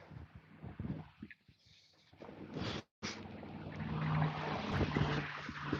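Strong wind roars and buffets the microphone in continuous gusts, briefly dropping out once, with a low steady hum underneath.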